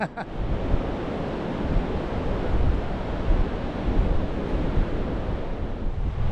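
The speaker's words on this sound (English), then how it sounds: "Tide's chasing us up the beach now, coming back in" Ocean surf rolls steadily onto a beach with the tide coming in, a continuous loud wash of breaking waves mixed with gusty wind buffeting the microphone throughout.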